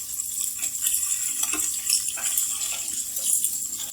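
Eggs fry in a pan for a spicy egg curry, giving off a steady, bright sizzling hiss with small pops and crackles and no talking.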